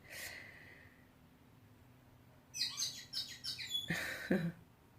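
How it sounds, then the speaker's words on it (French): Bright, varied blackbird song bursts out in quick phrases after a short quiet stretch, fairly close and clear. "C'est un merle."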